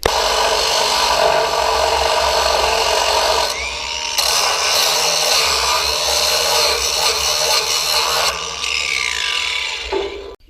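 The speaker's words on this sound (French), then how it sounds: "Donc là je viens de couper le morceau de ferraille" A piece of scrap metal on a harrow is cut, producing a loud, harsh continuous grinding rasp close up, broken by two short pauses, with no voices.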